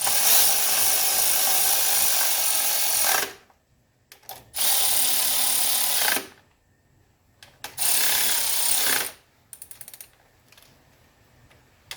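A power tool snugs down bolts on an aluminum valve cover of a 1985 Mercedes 300CD engine: three loud whirring bursts of a few seconds each, separated by silence and small clicks.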